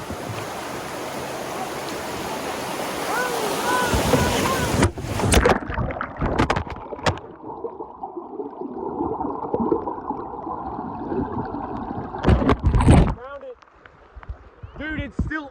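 Canoe paddled on the Etowah River, water sloshing and splashing against the hull with rushing river noise, bursts of closer splashes and knocks, loud and near, while people shout and talk excitedly over it.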